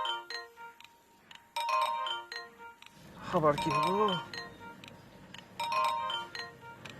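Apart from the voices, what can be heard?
phone ringtone from an incoming call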